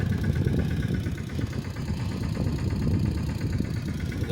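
A tractor engine idles steadily in a seven-bigha soybean field, a continuous low rumble with a slight knocking throb, close and even throughout with no voices.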